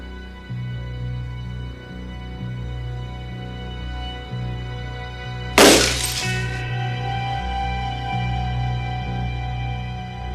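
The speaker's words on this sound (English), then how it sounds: "this young history teacher is going to try to will this sheet of glass to shatter" A sheet of glass shatters in a horror film scene, one sudden loud crash around the middle with glittering fragments ringing out briefly, set against a steady low droning score.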